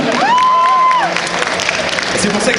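A convention panel audience in France applauds a Stargate guest, a loud, dense spread of clapping and crowd noise that runs throughout, with a whistle-like tone early on.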